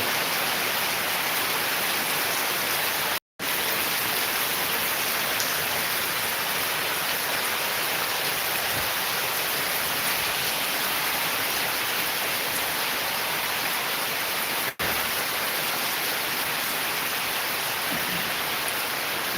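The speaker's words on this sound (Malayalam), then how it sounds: "അത്യാവശ്യം കുഴപ്പമില്ലാത്ത നല്ല മഴയാണ് അതേപോലെ തന്നെ നല്ല കാറ്റുണ്ട്" Steady, dense summer rain with wind hissing without pause, a broad even wash of sound that holds constant throughout, with no voices.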